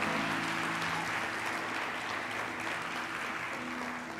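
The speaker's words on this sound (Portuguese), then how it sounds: "Dá um aplauso ao Espírito Santo de Deus." A church congregation applauding, a dense, steady wash of clapping that fills the room, with a faint sustained tone underneath.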